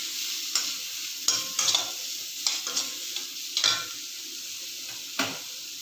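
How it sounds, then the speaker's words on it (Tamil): Onions sautéing in a pan for veg spring roll filling give a steady close sizzle, with several sharp scraping stirs of a spatula at irregular moments. "வெங்காயம் நல்லா கொஞ்சம் வதங்கட்டும்."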